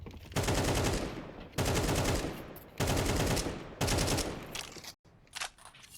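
Automatic rifle fire in a Counter-Strike match on Vertigo, one player spamming bullets through a small gap between ramp sandbags: four loud sustained bursts separated by short pauses, then a few fainter shots.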